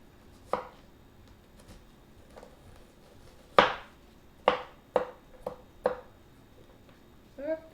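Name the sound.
chopping onions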